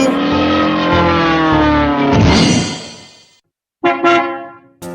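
A cartoon bus in a children's nursery song sounds a long, loud, tonal horn over its engine for about three seconds. It drops to silence, then gives two short horn bursts.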